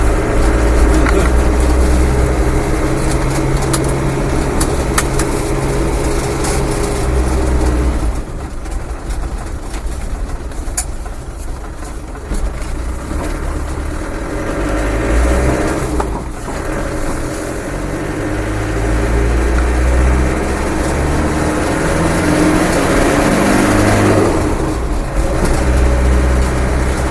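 A rebuilt Land Rover 300Tdi diesel engine drones steadily on a road test drive, a continuous loud rumble with road and wind noise that dips briefly and then swells again, with no talking.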